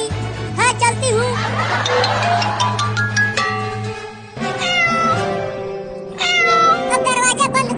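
A cartoon cat meows repeatedly, loud and drawn-out, with wavering cries close by, while people's voices mix in underneath.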